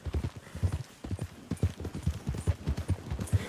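Horse hooves clip-clop in a steady, even rhythm of sharp knocks, close and clear, continuing without pause and with no talking over them.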